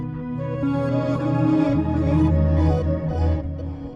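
Reversed guitar layers on a guitar bus, slowed by halftime and colored by flanger and crystallizer effects, forming a dense, smeared wash of sustained swelling tones, steady and loud with no talking.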